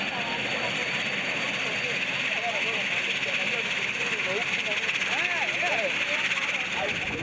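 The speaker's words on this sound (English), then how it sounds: "it's time to start up the engines" Kenya Air Force military aircraft engines start up on the airfield, whining and droning steadily, a broad continuous roar with a high-pitched hiss running throughout.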